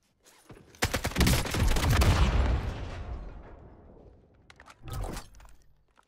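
Gunfire in the video game Warzone: a dense burst of rapid shots swells and rolls off into echoing reverb, followed by a second shorter volley near the end, loud and without talk.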